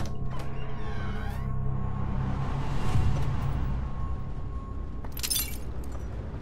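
Glass shattering in the first-person horror puzzle game In Sound Mind, a sharp breaking burst with scattered tinkling debris set against eerie ambient game sound and tones.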